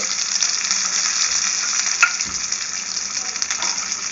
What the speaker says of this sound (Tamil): அப்படியே லேசாக வறுத்துக்காங்க